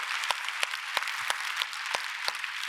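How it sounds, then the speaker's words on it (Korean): A church congregation at a Korean Sunday worship service claps in unison, a steady rhythm of about three sharp claps per second, moderately faint and roomy. "하나님 앞에 박수로 영광을 돌립니다"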